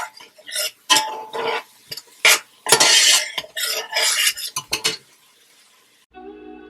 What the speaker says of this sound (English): So right now I'm just stirring my onions